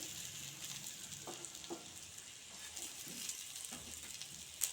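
A breakfast dish with spring onion sizzles softly in a pan as it is roasted and pressed lightly. The frying is quiet and steady, with a few faint scrapes and one sharper click near the end.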